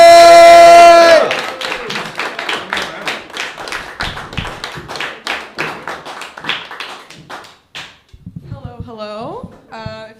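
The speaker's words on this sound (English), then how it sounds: "just give her a thunderous, loud round of applause for her debut, Meg J!" An open mic audience applauding a performer's debut, a burst of loud clapping and scattered cheers that tapers into individual claps, then a voice speaks as it dies down.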